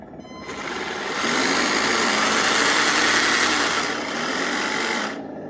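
A simulated engine sound plays from the speaker of an M5A1 Stuart 1/16-scale RC tank, a steady buzzing, mechanical drone that swells, holds for a few seconds, dips briefly and then cuts off, heard close and alone.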